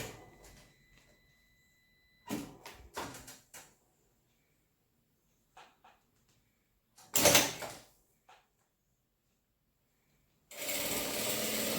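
A sewing machine stitches the sides and top of a fabric medicine bag, set to half a presser-foot width, in a few short bursts spread across otherwise quiet handling, with a longer steady run at the end.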